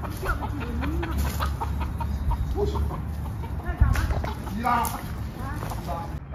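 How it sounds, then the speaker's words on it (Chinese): Large free-range native hens cluck and murmur close by in a farm setting, with repeated short calls and rising croons over background chatter of people talking. "你看这个都是大鸡、大母鸡。"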